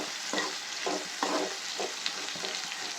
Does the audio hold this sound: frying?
yes